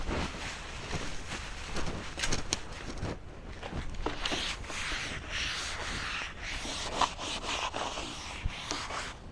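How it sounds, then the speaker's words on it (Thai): A wet cloth wipes across a yoga mat in repeated close rubbing strokes, a steady scratchy swishing with brief pauses and uneven rhythm. "เนี่ยผมก็ได้แต่เอา ผ้าชุบน้ำมาเช็ดอ่ะ พอแห้งแล้วก็พลิก พลิกข้างแล้วก็เช็ด"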